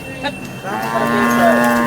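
A cow at a busy cattle market gives one long, loud, sustained moo that rises in the second half and holds steady over a background of market chatter.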